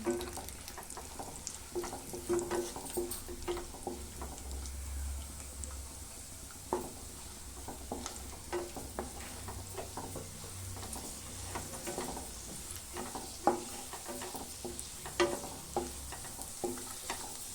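Cashews and poppy seeds frying in a pan, a soft continuous sizzle with scattered small crackles and scraping stirs, fairly quiet and close, with a faint low rumble underneath and no voices.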